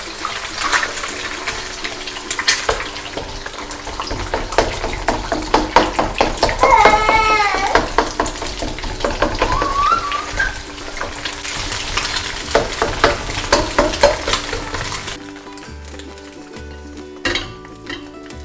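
Noodles frying with a little oil in a hot pan or wok for Chinese duck noodles, a loud close sizzle with rapid rhythmic tossing and metal utensil clatter, a voice speaking underneath, easing off into quieter kitchen clinks near the end.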